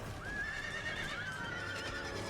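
A single horse whinny from Total War: Empire, a wavering neigh rising then falling over about two seconds amid battle din, with faint hoof clatter beneath.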